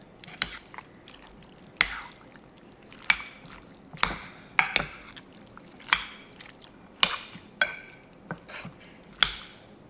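Ground sausage stirred in a pan for a cheese dip, giving scattered soft scraping and clicking spoon strokes at an irregular pace, fairly quiet and close, with no voices over it.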